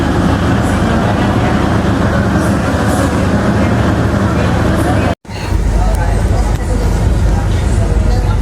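Sancaka passenger train standing at Surabaya Gubeng station, a steady loud rumble of idling locomotive and platform noise with crowd murmur, broken by a brief dropout near the middle.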